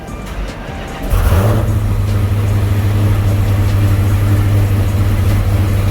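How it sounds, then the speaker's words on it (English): A Dodge Hellcat swapped to a 426 Hemi engine, clutch in, cranks and fires up. After a brief crank it catches and settles into a loud, deep, steady idle, recorded close with no voices. "doing another startup log with some changes that he made after tune revision 2"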